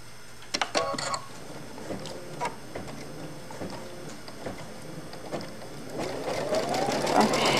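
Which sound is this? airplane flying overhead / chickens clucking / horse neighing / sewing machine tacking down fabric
sewing machine tacking down fabric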